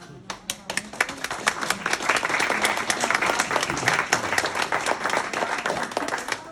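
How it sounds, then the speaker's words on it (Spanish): Audience at a talk breaking into applause, starting with a few scattered claps that swell into steady, fairly close group clapping lasting several seconds. "Les vamos a dar entonces un aplauso a nuestra"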